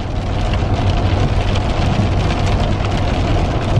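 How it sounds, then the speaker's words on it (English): Heavy rain drums steadily on a car roof, a dense, loud, continuous patter with a low engine rumble underneath. "Now it's raining really good."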